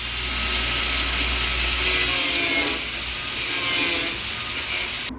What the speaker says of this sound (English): Let's cut these bolts off with the persuasion tool. This is an Imperial angle grinder